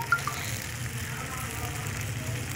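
Borax heating in a pan as its water boils off and it puffs up, giving a steady close sizzle and bubbling hiss with a few brief crackles near the start.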